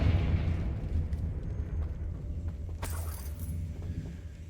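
In Hogwarts Legacy, a Confringo explosive spell lands as a deep rumbling blast with debris crackle, followed by a sharp bright crack mid-way, then a low lingering roar that slowly subsides.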